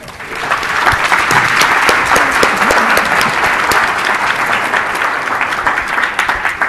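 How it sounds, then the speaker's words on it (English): An audience at a medical talk on myeloma and transplant gives a loud, sustained round of applause, dense steady clapping filling the room with no talk over it. "Okay, round of applause."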